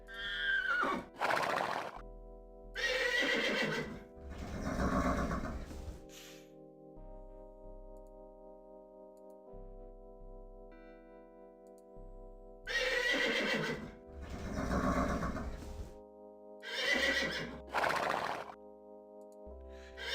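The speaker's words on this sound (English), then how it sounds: "Man, these horse sounds are getting really annoying." Horses in the puzzle video game 11th Hour neigh repeatedly, several loud whinnies coming in two clusters separated by a quieter stretch of sustained tones, with no talking.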